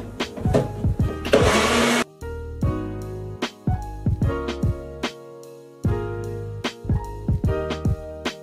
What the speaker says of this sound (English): can kind of feel when the blender's working hard to chop through and blend up the chickpeas